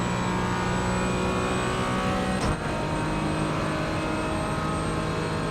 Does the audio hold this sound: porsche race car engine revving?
yes